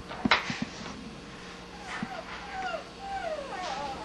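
A puppy gives soft, high whimpers and yips, with a few short cries early on and thin rising whines later. The sounds are fairly faint against background noise.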